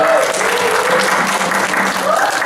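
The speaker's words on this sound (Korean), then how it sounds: "박수 한 번 쳐주시면 감사하겠습니다." A church audience gives dense, steady applause at a Korean Presbyterian education department's Christmas presentation. The clapping is loud and continuous from start to finish, with no voices rising above it.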